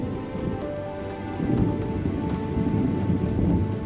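Rain pours steadily on a safari in Kenya, a dense hiss of drops that swells louder partway through, with no voices.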